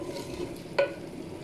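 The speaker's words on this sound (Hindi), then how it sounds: "एक कड़ी पत्ता, दालचीनी का पीस, 5-6 लौंग, 2 सब्ज़ इलायची और थोड़ा सा ज़ीरा, और इससे मसाले में भून लूँगी।" Whole spices, a bay leaf, a cinnamon piece, cloves, green cardamom and cumin fry in masala for goat trotter curry, a soft steady sizzle punctuated by one sharp clink of a spoon against the pot.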